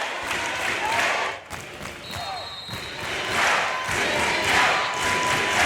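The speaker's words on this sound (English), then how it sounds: "the crowd comes to life here inside Rubin Arena" A crowd cheers at a college volleyball match inside Rubin Arena in an NCAA Tournament game between Tampa and Palm Beach Atlantic. The crowd noise is loud, swelling and fading, with whistles, squeaks and a sharp impact partway through.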